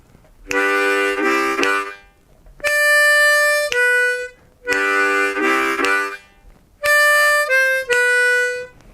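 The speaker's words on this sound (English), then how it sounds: "let's have a look at our third and final lick" A blues harmonica lick played twice in a row: a dense chugging chord followed by sharper single notes, bright and close, with short pauses between phrases.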